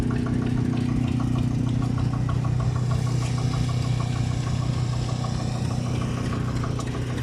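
An International Harvester Titan 10-20 tractor engine runs steadily, a low, even rumble with a rhythmic knocking pulse, close and continuous with no talk.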